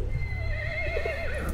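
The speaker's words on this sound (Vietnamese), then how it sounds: "Mấy con ngựa nó kêu" Horses neigh in the game Battlefield 1, a close, loud whinny with a wavering, descending pitch that runs for over a second over a low rumbling background.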